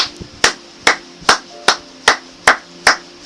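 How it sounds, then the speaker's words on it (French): A church congregation claps in unison with a steady, even beat, about eight sharp claps in three seconds, loud and close, with no voices. "Acclamons pour la gloire de Jésus"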